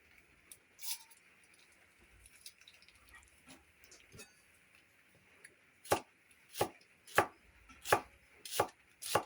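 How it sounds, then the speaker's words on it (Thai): A knife chops through a fresh whole onion on a cutting board, with scattered cuts at first, then a steady series of sharp, evenly spaced chops. "ขั้นตอนต่อไปเราก็จะมาหั่นผักนะครับ หอมใหญ่"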